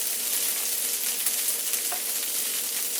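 Corned beef hash fries in a pan with a steady, close sizzle, and a few faint scrapes come through as it gets flipped. No voices are heard.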